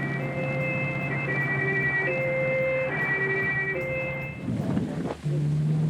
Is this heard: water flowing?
no